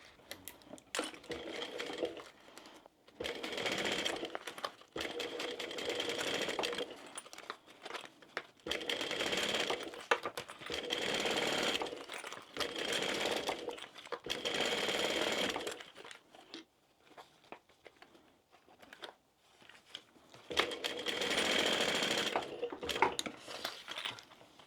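A sewing machine bastes fabric with a long stitch for a small crossbody wristlet bag, running in several separate whirring bursts of a few seconds each, with quiet pauses between runs.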